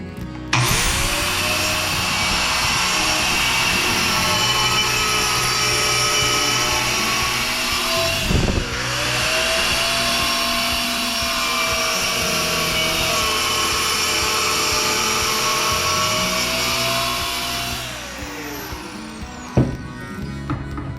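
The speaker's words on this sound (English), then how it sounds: "For the straight line cuts I'll use my Dremel Sawmax and a saber saw for the curved portion of the cut." A Dremel Saw-Max compact saw makes straight-line cuts, giving a loud, continuous high motor whine with a gritty cutting rasp. The whine dips briefly midway, then runs steadily for about seventeen seconds before winding down.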